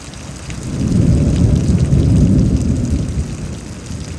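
Thunder rumbles through a rainstorm in Houston, Texas, a deep rolling boom that swells and slowly fades over steady heavy rain, loud and close with no voices.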